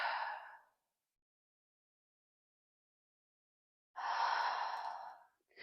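Two deep, breathy exhales during a yoga session, each a soft rushing sigh close to the microphone, separated by about three seconds of silence.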